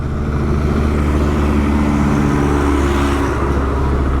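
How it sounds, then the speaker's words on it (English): A tractor rumbles past on a narrow country lane in the Yorkshire Dales, heard from a motorbike as a loud, continuous low engine drone that swells slightly, with no talk. "we'll just get out of the way of this tractor."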